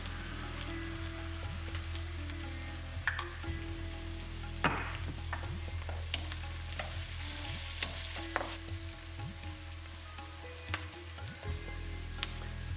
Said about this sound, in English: the onions are cooking down a bit now